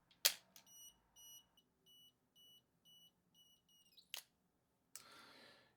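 A camera's self-timer sounds a series of short, evenly spaced electronic beeps, fairly quiet, framed by a couple of sharp mechanical clicks and a final shutter-like burst.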